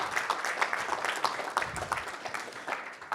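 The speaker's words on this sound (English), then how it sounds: "let's give Wilfred a big round of applause as well" An audience at a panel discussion applauds Wilfred with scattered, steady clapping from a modest crowd that carries on throughout.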